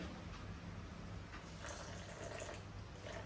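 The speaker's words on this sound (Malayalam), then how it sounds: "ഓക്കെ, കുറച്ച് വെള്ളം ഒഴിച്ചു കൊടുക്കാം." Water poured from a glass into a cooking pot, a steady soft splashing and trickling that runs the whole time, fairly faint and close, with no talking.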